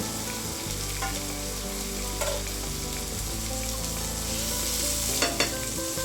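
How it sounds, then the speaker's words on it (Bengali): Chopped onions and tomatoes with a pinch of salt frying in a pan for a creamy garlic methi dish, while a spatula stirs them. A loud, continuous sizzle runs throughout with occasional scraping strokes and no voices. "তারপর তাতে টমেটো কুচোগুলো দিয়ে একটু নুন দিয়ে নেড়ে চাপা দিয়ে দেব"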